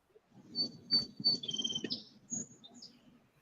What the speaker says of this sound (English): Oh, I love the sound of the little birds in the background.